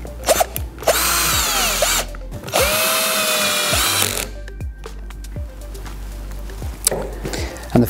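A power driver runs screws back into the cover of an electric actuator, whining loudly in two close bursts before trailing off into light clicks and handling noise.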